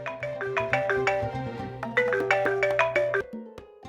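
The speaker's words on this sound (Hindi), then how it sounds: "मेरा फोन है। ये तो मामा का फोन है।" Mobile phone ringtone playing a bright, repeating electronic melody of short tonal notes, steady and fairly close, then cutting off near the end with no talk over it.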